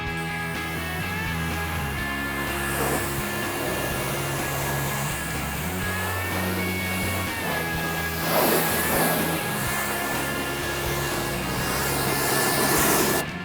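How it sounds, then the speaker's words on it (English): A pressure washer sprays compound off a car, a steady, loud hissing rush that runs unbroken throughout with brief surges in intensity near the end. "this pressure washer that we have it's amazing, and I can get the job done in like 5 minutes"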